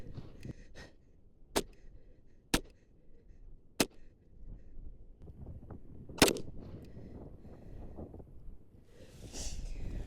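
Shots ring out at a shooting target, four sharp separate cracks spaced a second or more apart against quiet outdoor background noise.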